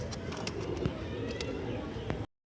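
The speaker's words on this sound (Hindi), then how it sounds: "बटेरा कबूतर है माशाल्लाह और 35 वाली मादी है माशाल्लाह" Pigeons coo and flutter among the cages at a pigeon market in Multan, soft throaty calls repeating over a busy, steady background murmur.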